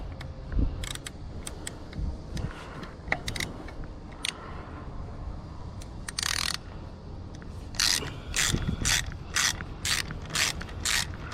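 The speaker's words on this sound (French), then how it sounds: "vous prenez votre cliquet pour desserrer la roue" A ratchet wrench loosens the wheel nut on a Xiaomi Scooter Pro 2 with solid tires, producing close, sharp clicking bursts in several quick rapid-fire runs over low background noise.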